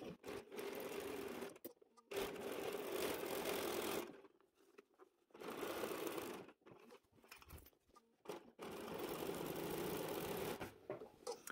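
A sewing machine runs in several bursts, stitching through all the layers of a quilted project bag with heavy 28-weight thread, its close, steady motor hum pausing briefly between runs.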